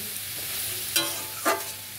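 Water spinach sizzles in a pan with onion, garlic and green chilli, a soft steady fry broken by two sharp stirring scrapes, close and moderately quiet.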